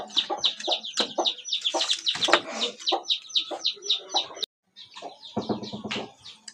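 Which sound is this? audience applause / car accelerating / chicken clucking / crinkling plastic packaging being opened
chicken clucking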